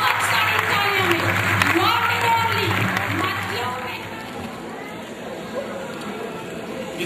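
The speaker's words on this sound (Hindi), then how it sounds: "लेडीज एंड जेंटलमैन, आपकी बहुत सारी तालियों में" Audience applause at a 2006 tribute event for Pervaiz Roshan, a steady patter of clapping that eases off midway, with a voice talking over it.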